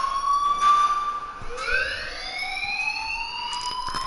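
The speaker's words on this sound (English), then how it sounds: "please turn off that alarm since that's your" A school fire alarm in the video game Life is Strange blares continuously with a loud, steady electronic tone whose pitch rises and falls in sweeping wails, close and alone without talk.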